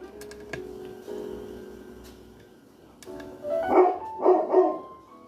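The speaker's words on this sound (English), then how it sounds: "Sorry about my dog." A pet dog barks three times in close succession near the end, loud and close, after a quieter stretch of indoor room sound.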